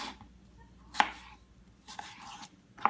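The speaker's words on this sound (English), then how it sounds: "And then I just cut them into slices." Slices of vegetable are cut on a cutting board with a knife, giving three sharp, separate chops spaced about a second apart in a quiet kitchen.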